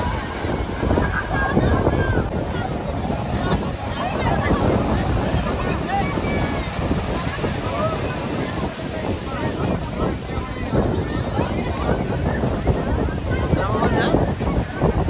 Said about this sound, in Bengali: যত হাওয়া বেশি হবে তত এই জলটার ঢেউটা বেশি আসবে আর কি